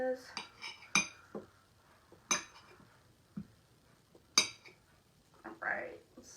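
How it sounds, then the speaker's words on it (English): A kitchen knife cuts bruised pieces off a peeled banana, giving a few sharp taps and clicks of the blade on a board and dish, scattered and close, with a voice talking in between. "Gonna cut off some of these bruised pieces."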